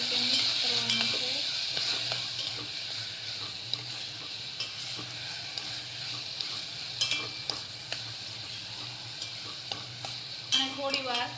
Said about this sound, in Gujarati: બધું સરસ રીતે મિક્સ કરવાનું છે.